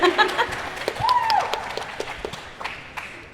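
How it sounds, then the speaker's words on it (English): Audience applause at a respiratory therapy pinning ceremony at a community college: brief, fairly soft scattered clapping with a short cheer-like whoop near the start. "Y'all can clap"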